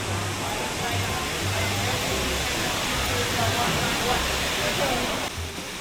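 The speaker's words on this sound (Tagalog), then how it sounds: "Wow! A huge waterfall!" Shifen Waterfall in Taiwan pours with a steady, broadband rush of water, a continuous loud roar that holds evenly throughout, with some low murmuring voices faintly underneath.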